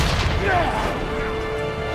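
Grenade explosion in a war film on a battlefield, a heavy close boom with a rumbling tail that slowly fades, under a voice narrating.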